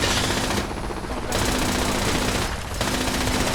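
Automated turrets firing in a video game: a dense, continuous rattle of rapid gunfire that drops back briefly twice, loud and steady throughout.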